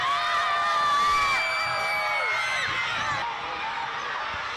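Dense crowd noise at a college women's basketball game, Carroll hosting Stevens College: loud, sustained cheering, whooping and high shouts from a packed gym that peaks early, then eases slightly while staying full.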